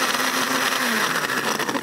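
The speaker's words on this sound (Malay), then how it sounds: "So bahan-bahan ni kita blender" Electric blender whirring loudly as it blends ingredients for Katira drink, a steady high-pitched motor roar with slight wavering throughout, no talk.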